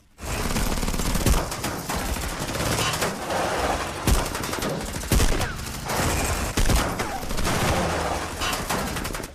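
Sustained automatic gunfire from an Indian action film fight scene, loud and dense bursts of rapid shots with brief gaps, continuing for several seconds with no talk.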